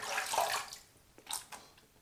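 A Mühle R106 safety razor is rinsed under running water between shaving passes, giving short, close bursts of splashing and trickling that fade quickly, with no talking.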